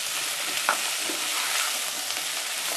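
Diced pumpkin sizzles steadily in a pot as it is stirred to coat, with soft spoon scrapes and an occasional light clack beneath the continuous frying hiss.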